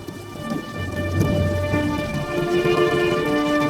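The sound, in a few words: thunderstorm with heavy rain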